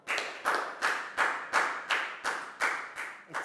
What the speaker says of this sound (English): And a round of applause for everybody for doing a great job.